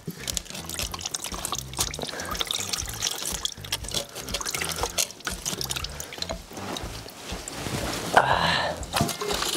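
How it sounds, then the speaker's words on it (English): Fluid drips and trickles into a container while a Yamaha FZ6 motorcycle is drained, heard as close irregular splashes and patters over a continuous wet flow, with a brief louder splash near the end. "You can probably see it dripping there now as well."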